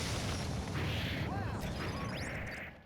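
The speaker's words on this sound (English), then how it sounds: "Explosion." A loud explosion from a Guilty Gear Accent Core +R match, a broad booming burst with crackling debris and sweeping effects, heard under a tournament caster's running commentary in the live esports broadcast.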